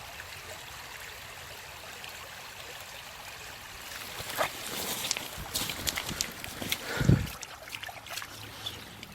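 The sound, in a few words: water flowing at a waterfall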